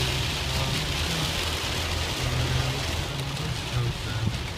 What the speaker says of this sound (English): The rain is falling down.